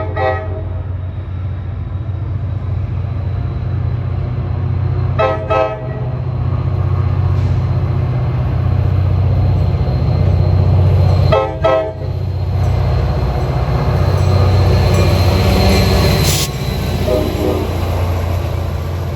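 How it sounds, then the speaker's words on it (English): NJ Transit train 1111, led by a Metro North F40-3C locomotive, pulls out for Suffern where three tracks narrow to two, with a steady loud diesel rumble and several horn blasts. A sharp high toot sounds near the end. "here's train 1111"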